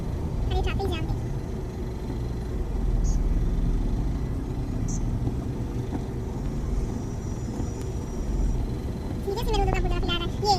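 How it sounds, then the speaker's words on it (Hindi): Congested street traffic outside a restaurant on Independence Day, a steady low rumble of idling and creeping vehicles with occasional horns, heard near and continuous beneath people talking. "अरे ट्रैफिक जाम देखिए।"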